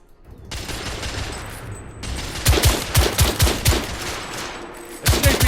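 Rifle gunfire in the video game The Order: 1886, sharp rapid bursts of shots cracking out in clusters, loud and close, with one more volley at the end over a rumbling battle backdrop.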